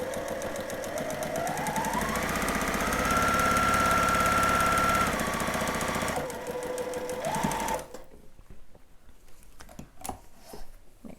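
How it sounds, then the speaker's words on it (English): A sewing machine runs a gathering stitch along sleeve ruffles for a child's dress bodice, its motor whirring steadily and rising in pitch as it speeds up, then stopping after about eight seconds, followed by faint clicks and handling noises. "I'm going to run a gathering stitch at about a 1/4 inch along my sleeve ruffles"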